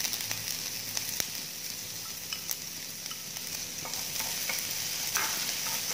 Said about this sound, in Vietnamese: Sau khi chảo dầu đã nóng, các bạn sẽ cho một ít hành tỏi vào đây nhé.